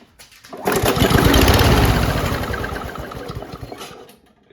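A free lawn mower found left in a back lane, its engine starting and running loudly for a few seconds with a rough, rapid sputtering drone before cutting out.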